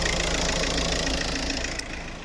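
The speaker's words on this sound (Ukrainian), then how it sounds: "Ось робота двигуна." A 2009 VW Touran 1.9 TDI diesel engine with automatic gearbox idles nearby in a steady, even rumble with a faint knocking texture, tapering slightly at the end.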